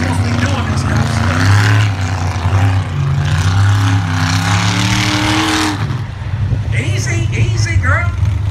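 A mud truck engine at Piedmont Dragway drones loud and close with a steady low rumble and wavering revs, and people talk over it throughout.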